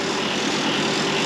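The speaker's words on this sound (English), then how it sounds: "I felt the engines pull back." Yacht engines at sea on an Atlantic Ocean crossing make a steady, dense mechanical drone that fills the whole moment without a break, loud and close.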